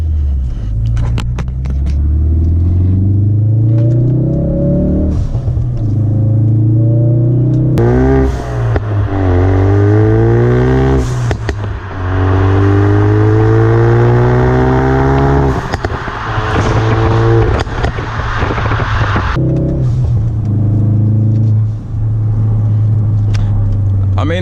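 A 2016 Ford Focus RS in sport mode on back roads pulls hard through several gears, its engine note climbing in repeated rising sweeps with brief dips at each shift, loud and close from inside the cabin, with no speech.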